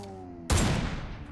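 A gunshot in PUBG Mobile during a sniper round goes off as one loud, abrupt blast with a short rumbling decay, close and alone.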